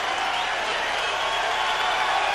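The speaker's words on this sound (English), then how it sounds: "Crowd cheers him." Boxing crowd at a heavyweight fight cheering, a dense steady roar of many voices filling the arena, loud and continuous throughout.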